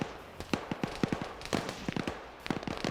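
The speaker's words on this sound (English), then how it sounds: "you throw 2 grenades, one to make them run and the second one to make them stand up" Grenade blasts in a trench warfare close-quarters combat video game, heard as a series of short sharp bursts in clusters with brief gaps, moderately loud and close, with faint voices in the background.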